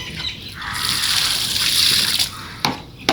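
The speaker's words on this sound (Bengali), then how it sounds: "এখন আমি গোড়াতে এই যেভাবে পানি দিয়ে দিই" Water pours and splashes onto soil at the base of a mango tree in a steady gush for a few seconds, close by, ending with a couple of small splatters.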